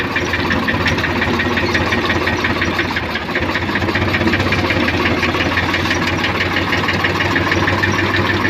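A tractor engine runs loud and close while being steered across a bumpy, pothole-filled farm field, giving a steady, rough, knocking drone that stays even throughout with only a brief dip midway.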